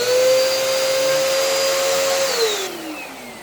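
A clogged vacuum cleaner runs with a loud, straining whine that holds steady, then drops in pitch and fades as the motor winds down, with no one speaking.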